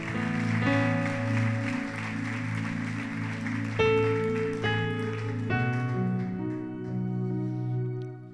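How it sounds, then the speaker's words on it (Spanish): A church congregation applauds at the close of a Spanish-language sermon, a steady wash of clapping running under loud sustained keyboard or organ chords that change pitch several times. "Dale un fuerte aplauso al Señor."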